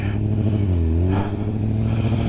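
A motorcycle engine running steadily up close, a low throbbing idle with a brief rise and fall in pitch, continuous and fairly loud.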